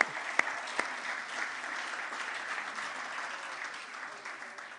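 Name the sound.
church congregation applauding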